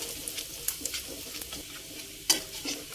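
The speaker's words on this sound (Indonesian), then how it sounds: "Setelah minyaknya panas, masukkan bawang putih. Tumis bawang putihnya hingga tercium bau harum." Garlic sautés in hot oil with a bright, steady crackling sizzle, punctuated by light stirring scrapes and one sharp clack of the utensil near the end; no one speaks.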